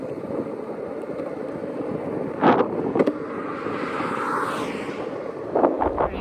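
Steady, loud wind buffets the microphone while skateboarding downhill on a windy road in Wyoming's Wind River area, with a few brief louder gusts or bumps over the constant rush.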